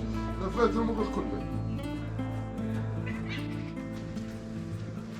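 A cat meowing among the ancient ruins of Petra, Jordan, several plaintive meows close by, heard under someone speaking over a steady background hum.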